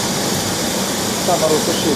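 A fan on a grain dryer pushes hot air through corn in a steady, loud broadband rush that continues without pause, with a faint whine rising near the end.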